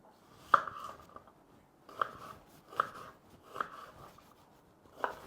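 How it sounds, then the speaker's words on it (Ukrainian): Onion being chopped into coarse cubes with a knife on a cutting board, five separate crisp chopping strokes spaced about a second apart, close and moderately loud with no talk. "будемо нарізати не мілким кубиком цибулю"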